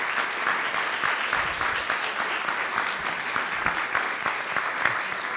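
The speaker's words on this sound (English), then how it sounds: "please one more time give a round of applause to our panelists." Audience at a panel discussion on inflation applauding the panelists, steady dense clapping from a sizable crowd in a hall, even in volume throughout.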